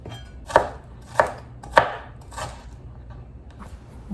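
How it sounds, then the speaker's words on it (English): A knife chops through cilantro on a cutting board, with four distinct, evenly spaced thuds, close and fairly loud. "Now I'm chopping up some cilantro"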